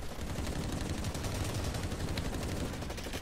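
Rapid gunfire in the Blacklight Retribution video game, a dense, continuous burst of automatic shots from a machine pistol, loud and sustained with a fast even rhythm throughout.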